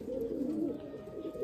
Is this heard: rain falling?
no